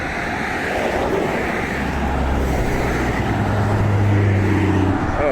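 A BMW car drives past on a road near a farm, a steady broadband road rumble with a low engine drone swelling and holding throughout, fairly close and loud, with no voices.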